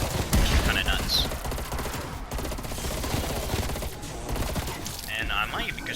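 Rapid bursts of FAMAS rifle fire in Cold War Zombies, a busy stream of close, loud shots running through most of the stretch with brief lulls, layered with other game noise.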